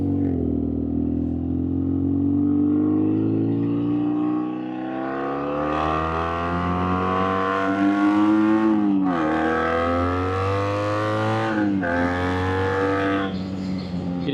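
A BMW R nineT motorcycle engine pulls hard through rising revs, climbing steadily with two brief gear-change dips before accelerating again, loud and close from the rider's position with wind noise.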